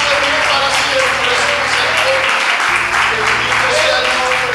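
Church congregation clapping for the Lord, a continuous wash of applause over steady musical backing and low voices, with a brief dip in the bass midway.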